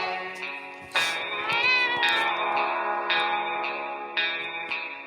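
A cat in the video game 60 Seconds gives a series of drawn-out, echoing meows, loud and close, repeated several times with processed, reverberant tone and no talking.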